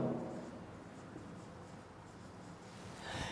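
A maths equation is handwritten, a faint continuous scratching of pen or chalk strokes close by, with no talking.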